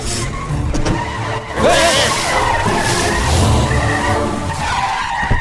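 A car in a police action scene from the film Singam 2 skids loudly with squealing tires and a roaring engine as it tears away, dense and close with a dramatic soundtrack mixed underneath.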